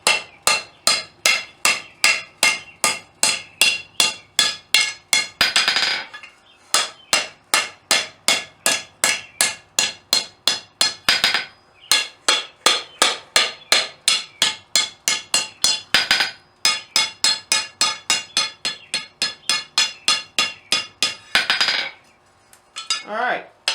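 A hammer rings on a steel fishtail scroll being forged on an anvil, bright metallic strikes in fast, even bursts with brief pauses between runs, loud and close.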